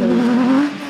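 A championship off-road vehicle's engine at the Goodwood Festival of Speed 2017 holds a steady, close, loud droning note for about a second before easing off, with no talk over it.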